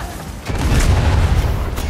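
A tank blows up in Far Cry 6 with a deep, heavy boom that swells after a brief lead-in and rumbles on for over a second, loud and close, with no talk over it.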